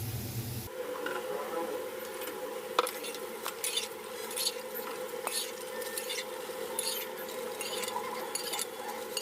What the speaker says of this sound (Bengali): এখন আমি মাংসটা ঢেলে দিব।